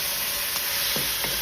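Beef char kway teow with vegetables and sauce sizzling steadily in a hot pan, a constant close frying hiss with a few soft scraping stir strokes, no voices.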